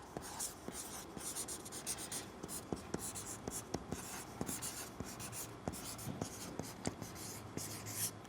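A marker scratches and taps on a classroom board in quick, irregular strokes, faint and close, with a soft voice murmuring in the background.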